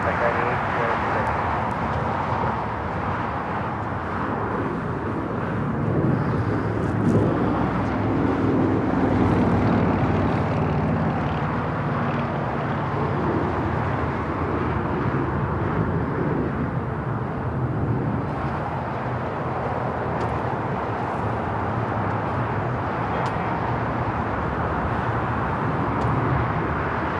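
An all-white Airbus A350-1000 airliner at Los Angeles airport gives a steady, broad jet roar that holds evenly throughout, swelling slightly midway, heard from some distance.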